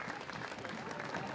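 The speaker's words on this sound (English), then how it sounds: "give them a nice big clap as you do with everyone" Crowd clapping at a 2016 ANZAC parade, a brief steady patter of applause heard from a distance, faint and continuous.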